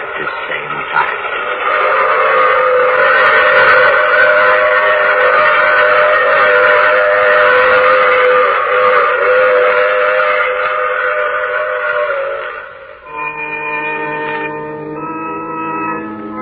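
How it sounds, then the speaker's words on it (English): Train noise from an old radio drama rolls along loud and steady, with a whistle-like sustained tone above it; the sound cuts off near the end and gives way to a musical sting. "I take this same train every week at this same time."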